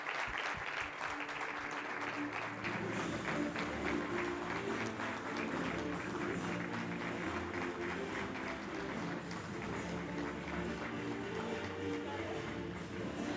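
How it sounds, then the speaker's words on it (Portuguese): At an entrepreneurship and innovation award ceremony, the audience applauds the winning project, a continuous, even wash of many hands clapping that holds steady for over ten seconds at moderate volume. "Uma salva de palmas para o projeto Spectrum."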